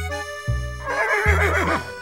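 A horse neighs in the Roblox game Brookhaven: a loud synthetic whinny with wavering, falling pitch, rising over a steady game music backdrop with no talk.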